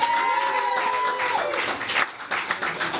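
A comedy club crowd applauds and cheers in a show's opening, with scattered clapping and a vocal whoop rising and falling over a busy room.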